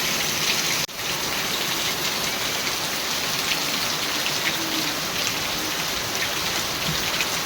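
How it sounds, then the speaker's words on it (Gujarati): Steady heavy rain pours down in a dense, unbroken hiss, close and loud, with a brief dip near the start. "પાછો વરસાદ વરસાદ ચાલુ થઈ ગયો"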